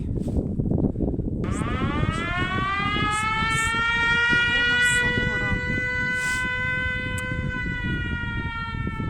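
An air raid civil defense siren sounds over a village on a cold spring morning. It rises into a loud, steady, droning wail and holds it throughout, with strong wind rushing underneath.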